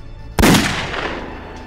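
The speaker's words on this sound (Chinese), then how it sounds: "开枪给俺打！" A single loud gunshot in a war film battle scene, a sharp blast that booms out and then fades through a long, rumbling decay.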